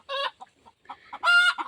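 A brooding hen clucks loudly and harshly up close, with two strong squawking bursts and softer clucks between them, and no talk.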